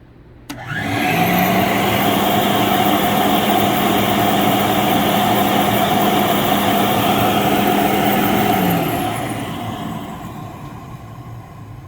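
A 25-year-old Rainbow D series vacuum cleaner, an older model without exhaust filtration, powers up with a rising whine, runs as a loud steady drone for about eight seconds, then winds down as its motor slows.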